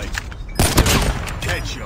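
A single heavy sniper-rifle shot in a ranked mobile shooter match, one loud booming crack with a short ringing tail, amid game sounds and an in-game voice.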